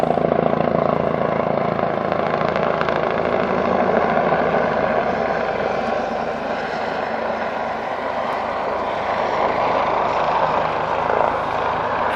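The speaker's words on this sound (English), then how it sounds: "Oh, a nice helicopter dude shows up right in the middle." Helicopter flying overhead beside a heliport, a steady loud rotor and engine drone that holds near and constant throughout with no talking.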